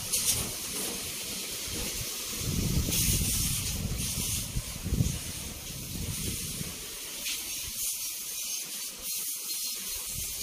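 A motor used for spraying cement-like mix at a construction job hisses and whirs steadily, with a constant broadband hiss and some mechanical rattling, loud and continuous throughout.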